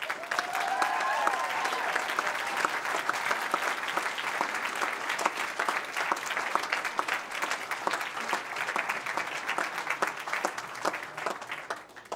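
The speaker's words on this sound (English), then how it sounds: "let's give your Federal Hawks a big round of applause" A room of people at a Federal Way city council meeting applauds the Federal Hawks, a steady, dense round of clapping that holds for about twelve seconds and then thins out at the end, with no talking over it.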